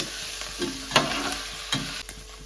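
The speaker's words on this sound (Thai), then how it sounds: "ใส่เนื้อลงไปค่ะ" Boiled beef, pressure-cooked beforehand, is tipped into a hot frying pan for Pakistani-style beef pulao, giving a steady sizzle with a few sharp stirring scrapes and clatters, close and without talk.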